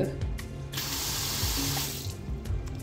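Water runs steadily from a hotel wash basin tap, a loud, close gush that lasts most of the moment before tapering off, with faint mechanical clicks around it.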